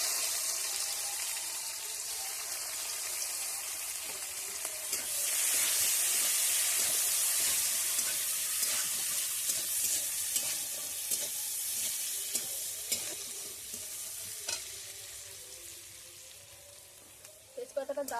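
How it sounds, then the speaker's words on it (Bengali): Chopped onion and green chili go into hot oil already spiced with cloves, cinnamon and cardamom for a village-style jackfruit and prawn curry, giving a loud, steady sizzle that surges as they hit the oil and keeps hissing throughout. "এবার পেঁয়াজ আর কাঁচা লঙ্কাটা দিয়ে দেব।"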